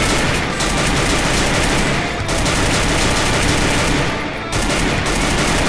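P90 submachine gun fire in the mobile game Free Fire, loud close sustained automatic bursts in long rapid strings with two brief breaks, no talking.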